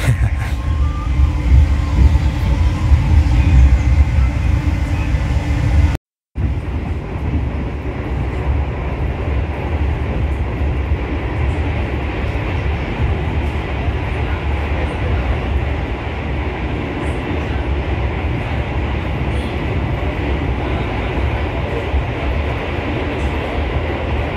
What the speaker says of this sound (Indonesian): saat ini kereta api Lodaya telah melintas langsung stasiun Gawok